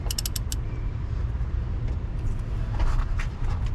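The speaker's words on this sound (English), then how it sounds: "We're gonna put it on the crank bolt, and hopefully she will spin." A 5/8 socket wrench on the crank bolt of an old Chevy Nova engine that sat for 35 years gives quick ratcheting clicks, then strained creaking and low mechanical grinding throughout.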